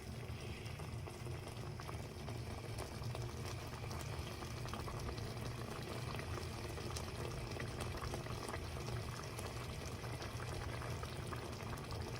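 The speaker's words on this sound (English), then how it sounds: "we're bringing our vegetable mixture to the boil and then reducing to the simmer" Ratatouille vegetable mixture boiling and simmering in a pot, a dense, even bubbling hiss that holds steady throughout, fairly quiet and with no one speaking.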